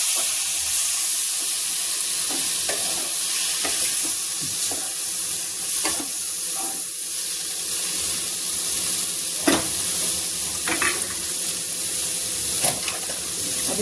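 A little water poured into sizzling masala in a pan while cooking a pumpkin or gourd sabzi: a steady loud hiss and steam sizzle throughout, with scattered scrapes and clinks of stirring, no speech.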